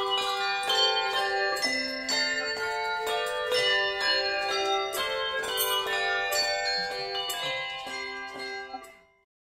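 Handbell ringers playing an overture in the style of the 1880s, with many bells sounding together: bright, sustained chiming tones in a steady melodic rhythm and layered harmonies, loud and close, all ringing out before a quick fade at the end.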